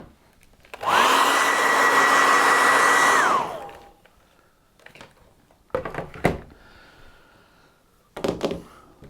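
A hair dryer blows steadily for about three seconds to dry a watercolour painting of a winter barn, then switches off, followed by a few soft knocks and handling sounds.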